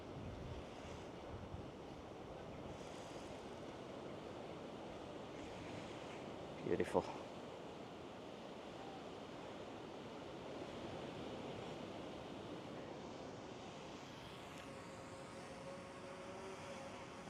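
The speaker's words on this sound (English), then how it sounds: "Look at that ocean. Let's zoom in, show you how rough that is." Rough ocean surf at Balangan Beach in Bali roars as a constant broad wash of waves, heard at a distance under steady wind buffeting the microphone, with a brief spoken word partway through.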